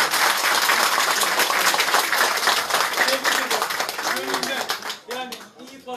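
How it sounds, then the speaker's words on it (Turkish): Crowd applause at a municipal election gathering in Erdek, a dense patter of clapping that thins toward the end while a voice speaks over it. "Erdek'in Millet İttifakı'nın üyelerine büyük bir alkış."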